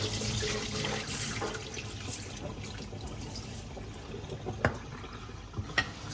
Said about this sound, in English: I'm going to give it a good wash